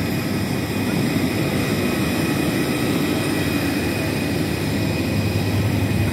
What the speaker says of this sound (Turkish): Evet, bizim uçağımız da burada.